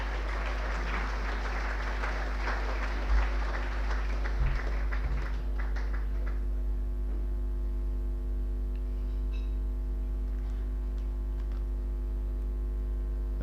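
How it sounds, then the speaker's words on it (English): Applause at a 1999 St Josephs Doora-Barefield club celebration dinner in a hall: a crowd claps steadily for several seconds, then the clapping thins out and fades into a quiet room hum. "A round of applause, please, for the team boss, Michael Clossy."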